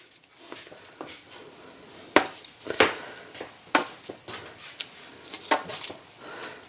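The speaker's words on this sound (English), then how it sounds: "we're going to go ahead and we're going to add our quail back in" Quail pieces go back into a hot pan with soft sizzling and a series of sharp clatters and scrapes of utensil against pan, quiet and close with no talking.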